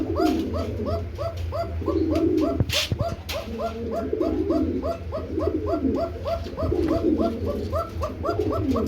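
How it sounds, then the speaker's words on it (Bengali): Kuka breed pigeons coo over and over in a steady rhythm of throaty, rolling calls, fairly close, with a brief sharp clatter partway through and a low background hum. "আমরা কিন্তু কুকা কবুতর ডাক শুনছিলাম"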